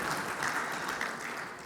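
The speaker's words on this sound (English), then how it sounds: "Let us have a big round of applause for C." A crowd at a finance event gives a steady, full round of applause, many hands clapping in an even continuous wash from start to finish, with no voices over it.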